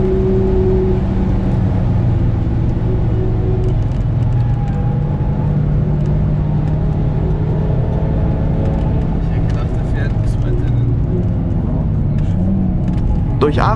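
A car's engine drones loud and steady in fifth gear at about 170 km/h on a fast downhill section of a race track, with road rumble throughout and someone talking over it.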